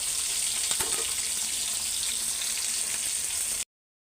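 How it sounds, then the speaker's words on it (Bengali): Fish belly pieces frying crisply in oil with plenty of spices in a pan, a steady, close hiss and sizzle with light crackles that cuts off abruptly into silence. "এ কারণে কড়া করে ভাইজেই ফেলাইতেছি যাতে ভাত দিয়ে খাওয়া যায়"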